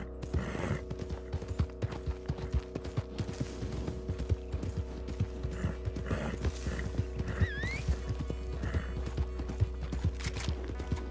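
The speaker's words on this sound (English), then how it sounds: "Riding a horse that doesn't have nearly as much stamina." Horse hooves clip-clop steadily and quickly while riding in a shooter video game, with a whinny partway through and mechanical creaks under the rhythm.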